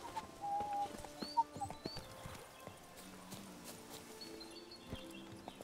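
Geralt's horse Roach walking in the video game The Witcher 3: Wild Hunt, steady hoof clip-clops with a brief snort or whinny, moderately close over quiet ambient game sounds and music.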